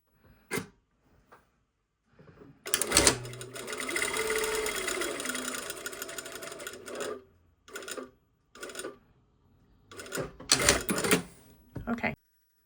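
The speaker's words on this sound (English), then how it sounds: "Okay, so let's sew this one." A sewing machine stitching a lined vent runs in a steady, fast mechanical whir for several seconds, bracketed by short clicks and handling knocks before and after.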